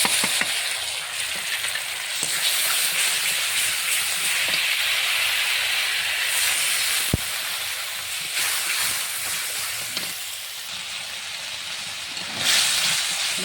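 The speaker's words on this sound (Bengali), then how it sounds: "একটু সুন্দরভাবে ভাজা হয়ে গেছে, আমি পেস্ট করা মশলাটা ফেলে দেবো।" Ground spice paste sizzles and spits as it fries in hot oil for a Bengali taro and puti fish curry, a loud continuous hiss close up, with occasional clacks of stirring.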